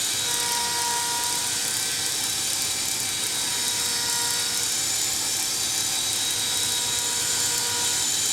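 Metal lathe cutting four lobes into a workpiece, a loud continuous high-pitched whine and grind with steady mechanical rattle throughout, no pauses.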